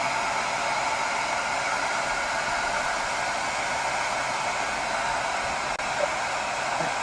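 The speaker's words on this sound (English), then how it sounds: "we are heating up this structure with a blow dryer" A blow dryer heating a deployable space structure runs as a steady, loud broadband whoosh for the whole stretch, with one brief click near the end and no talking.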